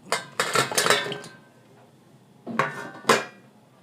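Cut brinjal pieces are tipped into a metal bowl for a dried-prawn stuffed brinjal curry, giving a cluster of close clinks and clatters, a short pause, then two more sharp knocks against the bowl.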